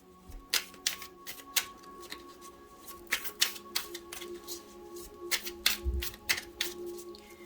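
Tarot cards are shuffled and handled close up, producing a sequence of quick crisp flicks and snaps in irregular bursts against a quiet room, with no talking.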